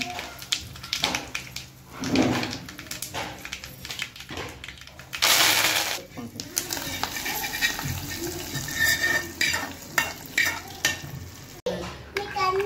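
Sizzling and stirring as cumin seeds and spices fry in ghee in a pan, with scraping of a spoon and bursts of crackle, ongoing throughout.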